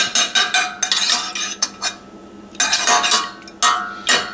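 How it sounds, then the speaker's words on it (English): A spoon is rinsed off in a pot of dipping sauce, with a run of close metallic clinks and scrapes in quick bursts and a short pause in the middle. "I'm not going to be using the spoon for anything else, so I just kind of rinse it off in the pot."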